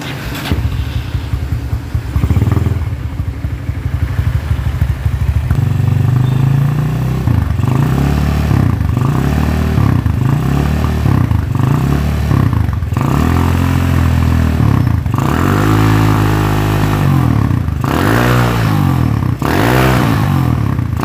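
A motorcycle with a jerky, stuttering ride fault is started and left running, its engine revved repeatedly in loud, rising and falling bursts with a clattering idle between throttle blips.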